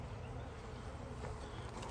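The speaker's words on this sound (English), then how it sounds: "That bee does not like me." Honey bees buzz around a hive during an East Texas drought, making a dense, steady, close drone that fills the whole moment with no break.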